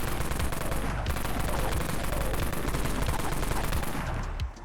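A Dawn AR assault rifle in Dead Frontier fires in rapid continuous bursts, dense and loud throughout before cutting off at the very end.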